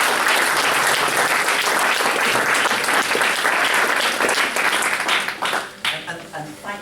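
A party conference audience in Gateshead applauds to welcome the party president, dense sustained clapping from a crowd that thins into scattered claps before ending.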